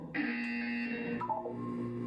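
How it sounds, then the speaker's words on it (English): A test-chamber buzzer from the video game Portal 2 sounds as a sustained electronic tone that shifts pitch partway through, then fades into a quieter hum; no one talks. "When you hear the buzzer, look down at the floor."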